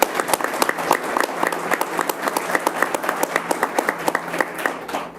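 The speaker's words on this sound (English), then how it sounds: "We want to give them a round of applause." Audience applause at an economic development event, loud and close with distinct individual claps in a quick, uneven rhythm throughout.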